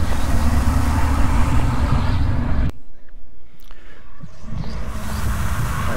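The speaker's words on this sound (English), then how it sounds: "Here's a loud portal." A loud, continuous roaring whoosh from a portal in a video game, deep and rumbling, cutting out abruptly for a couple of seconds before swelling back in.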